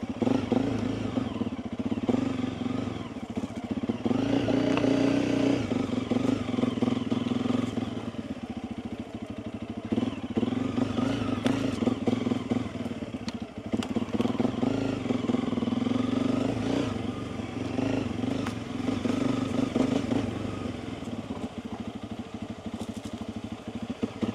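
A 286cc motorcycle engine pulls steadily through mud holes in second gear, a continuous loud close engine drone with mild rises and dips in revs and some clatter, running throughout without speech.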